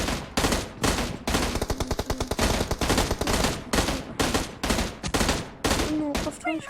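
Rapid automatic gunfire from a weapon in the PUBG video game, loud bursts of shots fired in quick strings with brief gaps between volleys.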